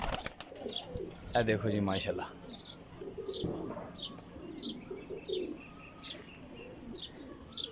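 Kasuri and Sialkoti cross pigeons coo repeatedly in short, soft phrases close by, with faint chirps around them, while someone talks over the start of the birdsong.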